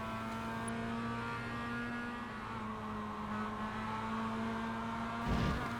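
A Mazda MX-5 race car in a sim racing game at Zolder, its engine droning at steady revs through a right-hand bend and rising briefly near the end, heard alone at moderate volume.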